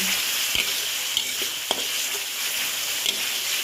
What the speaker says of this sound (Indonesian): Jadi biar goreng bumbu bisa tanek dan tidak gosong, sambil kita beri air seperti itu.